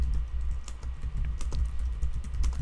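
Rapid keystrokes on a computer keyboard, a steady close-up patter of clicks running continuously without pauses.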